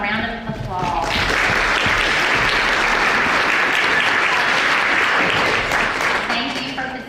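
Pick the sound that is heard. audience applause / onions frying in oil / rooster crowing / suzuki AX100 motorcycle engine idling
audience applause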